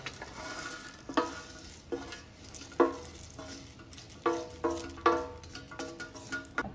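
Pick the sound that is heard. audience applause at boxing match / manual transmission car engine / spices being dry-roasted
spices being dry-roasted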